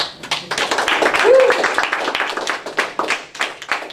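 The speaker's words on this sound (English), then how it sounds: "give a round of applause" A seminar audience gives a round of applause, a dense patter of many hands clapping that rises and holds for several seconds while a voice speaks over it.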